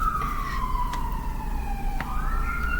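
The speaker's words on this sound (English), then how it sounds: "There's sirens in the background." An emergency vehicle siren wails in the distance, a sustained tone slowly gliding downward and then jumping back up, over low background rumble.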